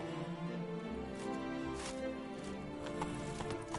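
Roach, the horse in The Witcher 3, gallops with a steady, quick clip-clop of hooves, fairly faint and continuous, over a low game soundscape.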